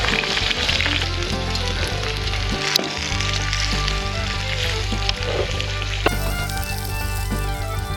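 Whole corn on the cob sizzles on a campsite grill at a national park, a steady close frying hiss with occasional sharp crackles and pops and a low background rumble, with no talk.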